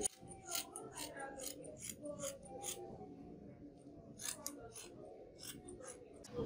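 Scissors cut through fabric for a dashiki being shaped like a shirt, a quick run of crisp, close snips with short pauses in between and faint background noise.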